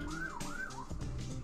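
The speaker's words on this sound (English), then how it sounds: "There's a fire truck thing going on down there." A fire truck siren outside a house wails in rising and falling sweeps, coming through clearly but somewhat distant and muffled, with no talk over it.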